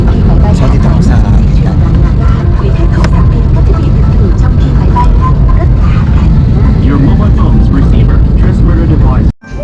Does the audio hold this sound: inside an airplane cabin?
yes